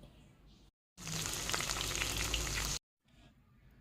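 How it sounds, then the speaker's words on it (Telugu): Boiled chicken leg pieces hit hot oil in a pan and crackle in a loud, close, continuous sizzle for about two seconds, framed by quieter kitchen background on either side. "చికెన్ లెగ్ పీసెస్ ఉన్నాయి కదా అవన్నీ కూడా నూనెలో వేసి వేయించాలి"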